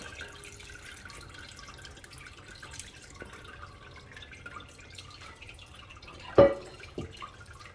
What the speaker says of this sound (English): And you hear it all draining in there.